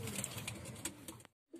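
Young pigeons cooing softly at close range, with faint soft coos and light rustling sounds, quiet overall and cut off by a brief gap near the end.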